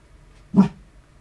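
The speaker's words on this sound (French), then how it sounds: "Non, on commence pas à aboyer les gars" A single short bark from an Alaskan malamute indoors, one close, abrupt burst standing alone over a quiet background.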